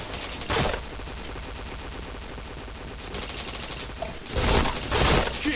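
Rapid automatic gunfire from the shooter game Point Blank crackles in dense bursts, with a loud burst early on, a steadier stretch of fire, then another heavy burst near the end.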